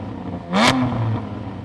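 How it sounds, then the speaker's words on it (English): A Porsche with an aftermarket exhaust gives a single sharp rev, the engine note rising and blipping before settling back to a steady idle, close and loud. "go on Jamie, rev up your car"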